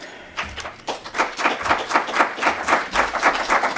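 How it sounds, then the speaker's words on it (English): Audience applause at a village board meeting, a burst of many hands clapping that builds and holds steady through the moment, with a faint voice underneath near the start. "Don't clap yet, I didn't say anything."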